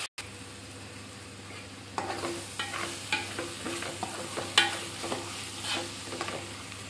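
Ingredients browning in a pan for an Andhra-style kanagarasalu curry give a soft continuous sizzle, joined after a quiet start by repeated scraping stirs and light spoon taps, close and unaccompanied by speech.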